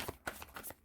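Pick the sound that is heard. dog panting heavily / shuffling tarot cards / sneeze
shuffling tarot cards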